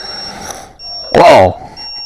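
A DIY quadcopter built around an ATmega2560 sounds a low-battery alarm: a single loud, sharp electronic beep of about a third of a second. It stands out over steady rotor hum.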